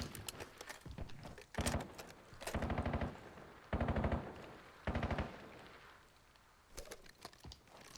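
Automatic gunfire in the video game Overwatch: several rapid bursts of closely spaced shots, some long and sustained, others brief, loud and near against a constant game background hum, with no talking.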